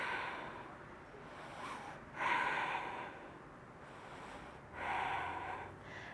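Slow, deep breathing during a yoga session, with two or three long, airy inhale-exhale swells, close and soft over a quiet background.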